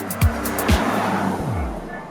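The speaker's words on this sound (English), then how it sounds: "It's got a strong and powerful V6 engine that comes mated to an electric motor." Lexus RX450h hybrid with a V6 engine paired to an electric motor, accelerating in short bursts, its engine note sweeping downward a few times as it passes, with a voice talking over it.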